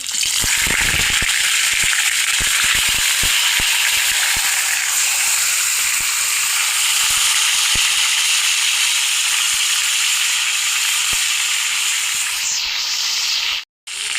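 Fish head frying in hot oil in a village kitchen, a loud, steady, dense sizzle that holds for the whole stretch with a few crackles near the start and a brief drop near the end.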